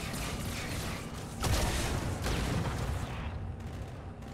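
Rocket launcher fire in Halo 2: Anniversary, a couple of loud booming launches and blasts with rumbling low-end tails and mechanical clatter, heavy and close over continuous game noise.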